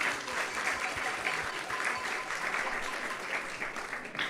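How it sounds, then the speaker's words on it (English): A large audience at an ISKCON Krishna Katha gathering in Silicon Valley gives a steady round of applause, dense and even throughout. "let's give a big round of applause to everyone who has joined us tonight"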